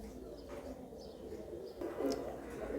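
Pigeons coo softly at a pigeon market in Khulna, with low, murmuring calls rising and falling over a muffled background hum.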